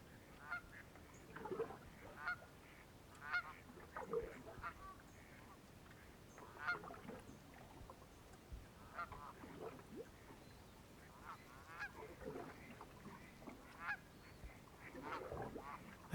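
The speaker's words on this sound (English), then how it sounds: "Maybe add in a few birds." Geese honking in a calm outdoor soundscape, scattered faint calls repeating irregularly over a soft steady background, distant and quiet.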